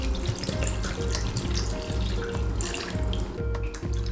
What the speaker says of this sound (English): Pour the water until they soak.